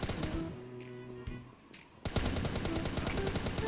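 Rapid gunshots from the mobile battle royale Survival Fire Battleground, with bursts early on, a brief lull with musical tones, then a loud dense run of repeated shots.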